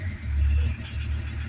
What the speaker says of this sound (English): as you can hear, got the van started